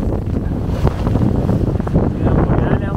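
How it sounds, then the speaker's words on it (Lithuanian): Strong wind of about twenty knots roars across the microphone on a sailboat in the Arctic Ocean, a loud broadband rush with gusts and the wash of waves against the hull. "Vėjas dar vis tiek 20 mazgiukų."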